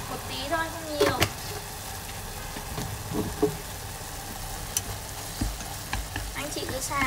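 Small river clams stir-fry with a little sugar in a pan, a continuous close sizzle broken by scraping and clinking of a utensil against the metal, with a voice speaking faintly in the background.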